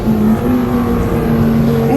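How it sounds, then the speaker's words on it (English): Two race cars tear through a fiery explosion on a stadium track, a loud, steady engine roar with a sustained droning tone holding throughout the short burst. "The two remaining racers sped right through it unimpeded."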